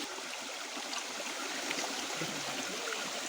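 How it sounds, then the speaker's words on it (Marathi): A cold mountain spring stream on a rainy trek flows in a constant, close rushing hiss of water with no break and no voices. "आता या जरा झऱ्याचा पाणी भरून घेऊया एकदम थंडगार पाणी आहे"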